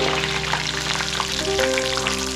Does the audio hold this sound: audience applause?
no